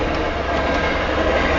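A fast westbound Union Pacific stack freight train passes close by at about 65 mph west of Nevada, Iowa, with a loud, steady roar and rumble from the rolling cars.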